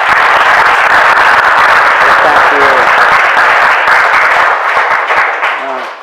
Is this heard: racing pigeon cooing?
no